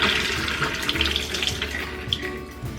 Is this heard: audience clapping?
no